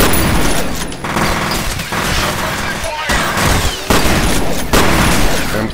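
Gunfire in the shooter game F.E.A.R. Extraction Point: dense, loud bursts of automatic fire and booming impacts run nearly continuously, with brief lulls, while someone speaks over the din.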